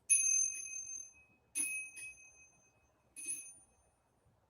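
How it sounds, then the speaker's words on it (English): A pendulum bell struck three times at even intervals, each a clear, bright metallic ring that decays slowly, heard alone and fairly quiet. "That's my pendulum bell that I've been doing in my show for a long time."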